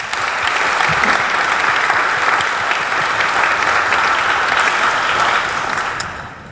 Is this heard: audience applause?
yes